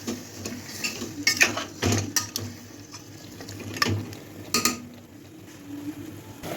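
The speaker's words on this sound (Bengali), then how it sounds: "মিডিয়াম টু হাই ফ্লেমে রেখে মাংসটাকে ভালো করে কষিয়ে নিচ্ছি" Mutton is stirred and fried in a pan over medium to high flame, with repeated spoon clatters against the pot over a low, gentle frying hiss.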